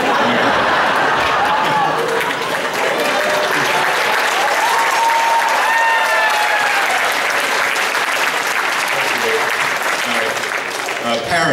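Parents in the audience applaud at a high school winter concert, a sustained, full crowd clapping close and loud with faint chatter and light laughter mixed in.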